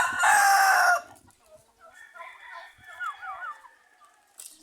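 A large tom turkey at a breeder's farm lets out a loud, harsh call that lasts about a second, followed by quieter warbling calls nearby. No people talk.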